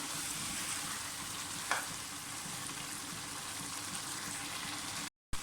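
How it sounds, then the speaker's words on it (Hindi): Masala being fried for an aloo chicken shorba gives off a steady, low, even sizzle throughout, with one brief clink or scrape near the middle and a short dropout near the end; no one speaks. "मसाला अच्छी तरह से हमारा भून चुके हैं।"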